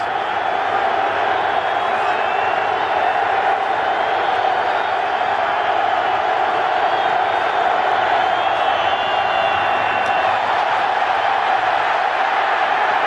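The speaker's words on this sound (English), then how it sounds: "now you hear the boos coming out" A packed NFL stadium crowd at a 2008 Chargers–Steelers playoff game sends up a sustained, low rumbling roar of boos that holds steady for many seconds.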